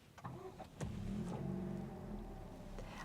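An Aston Martin Cygnet's small engine catches after a few clicks and settles into a steady idle, close by, with no talk.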